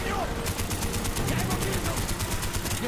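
Rapid automatic gunfire from a Call of Duty: Black Ops campaign battle rattles on steadily in dense, loud bursts, with game noise and a voice speaking over it.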